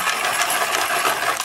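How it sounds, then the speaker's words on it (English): Pencil sharpener grinding regular pencils, a dense continuous scraping rasp that stays loud and steady close by, with no talking. "So these are regular pencils I'm jamming through here."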